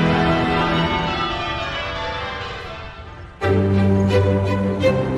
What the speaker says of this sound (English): The bells start ringing just as the royals exit the Abbey.